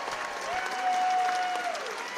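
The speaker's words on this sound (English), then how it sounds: "he's getting a tremendous hand here" A basketball arena crowd applauds, a dense, loud wash of clapping and cheering that holds steady and swells slightly, with a faint whistle-like tone in the middle.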